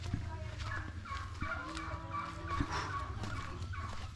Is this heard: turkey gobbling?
yes